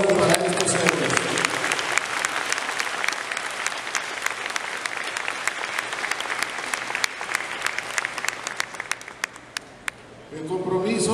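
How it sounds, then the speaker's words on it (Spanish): A crowd at a municipal aid event gives firefighters and rescue workers a long, strong round of applause that holds steady before fading out, with voices starting up at the very end. "Un fuerte aplauso para estos héroes."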